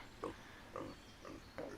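Pigs in the farming game Pure Farming 2018 give four short, soft grunting snorts spaced about half a second apart over a low steady background hum.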